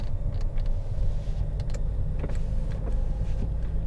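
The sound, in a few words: car power windows operating, Vauxhall Insignia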